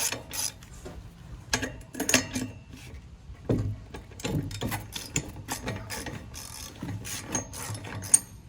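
A wrench loosens the wheel nuts on a BMX bike in short bursts of quick ratcheting clicks, close and moderately loud, separated by brief pauses.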